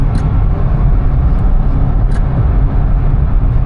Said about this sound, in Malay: Banyak kereta atas jalan.